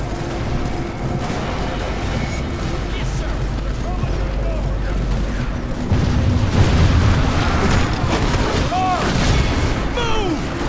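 Musket volleys crackle in the Medieval 2 Steam and Steel mod, a dense battlefield din of booming gunfire and clamour that swells louder around the middle and stays busy throughout.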